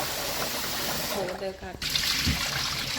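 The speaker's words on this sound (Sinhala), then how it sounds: "හාල් 4 ගමනක්වත් අපි නම් 6-7 ගමනක් හොදනවා" Rice being rinsed and swirled in water while preparing Indian-style chicken biryani, a steady wet sloshing and trickling that runs continuously under a person talking.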